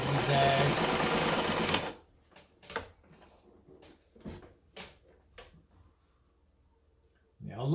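A Singer 237 Fashionmate sewing machine runs fast and steady for about two seconds while stitching a fine zigzag, then stops. Scattered clicks and handling noises follow, and the motor starts again briefly at the end.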